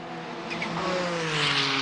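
Eddie Irvine's race car at the 1994 Le Mans 24 Hours pulls away with a loud engine note rising steadily in pitch as it accelerates, heard alone and close.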